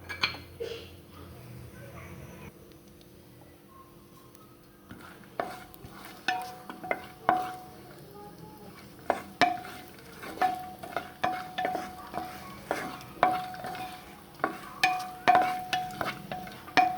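Dry raisins frying in a pan for carrot halwa, stirred with a spoon that clinks and scrapes in irregular bursts against a soft, steady sizzle, close by.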